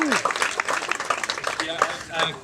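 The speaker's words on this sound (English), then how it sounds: "let's applaud for Mike before he even starts" Audience at a tennis event applauds a guest named Mike, a short burst of clapping mixed with cheering voices, busy and fairly close.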